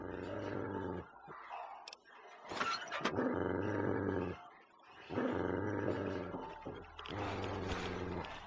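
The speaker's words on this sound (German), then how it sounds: "Hallo Hund." Dog growling in Fallout 3, a low rumbling snarl repeated in several long bursts with brief pauses, loud and close, with no talk over it.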